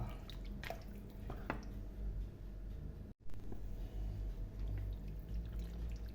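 Beef bolognese sauce with beef stock being stirred in a pot, a steady wet bubbling and squishing with scattered drips and scraping, continuous and close, briefly cut off midway.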